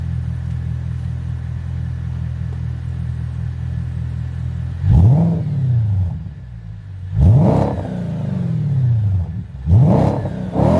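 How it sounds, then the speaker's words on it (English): A V8 car, warmed up and idling outside with a steady low rumble, gets three sharp revs that spike and fall back, heard from about 15 meters away. "so let me just give you a couple of revs."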